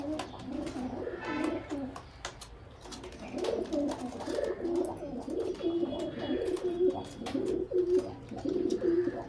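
A pet pigeon offered for sale coos close by in repeated soft, throaty rolls, with faint rustling between the calls.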